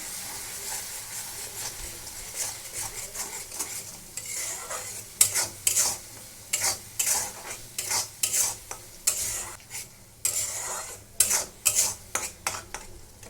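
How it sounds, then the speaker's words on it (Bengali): Spices cooking down with turmeric in a hot pan: a spatula scrapes and clinks against the metal in quick, irregular strokes over a steady background sizzle, close and moderately loud, with no talking. "আর দিয়ে দেবো হলুদ দিয়ে এটাকে কষাতে থাকবো"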